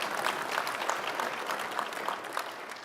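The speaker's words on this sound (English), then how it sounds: "applause" Audience applause at a formal speaking event, a steady patter of many hands clapping, moderately distant and sustained for a few seconds.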